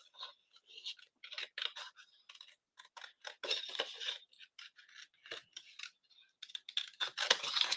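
Scissors snip through cardstock during fussy cutting for handmade card making, giving a run of short, close, quiet crisp cuts in an irregular rhythm, with soft rustling as the paper is turned and no talking.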